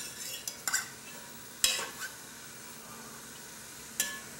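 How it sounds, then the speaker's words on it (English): A spoon stirs chopped celery in a cooking pot, making a few short scraping clinks against the pot over a faint, quiet sizzle. "And I stir. You hear that pot, don't you?"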